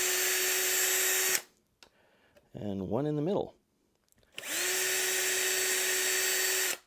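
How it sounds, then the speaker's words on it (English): Power drill boring starter holes into a 3U rack, two loud sustained bursts of whining drilling separated by a short gap in which someone speaks briefly. "I should be able to just drill a starter hole there, and yes, drill a starter hole here,"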